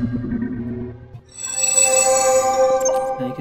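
A glitchy synthetic UI notification effect: low buzzing tones stutter and break up, then give way to a brighter electronic chime with bright, warbling distorted overtones, playing alone for about three seconds.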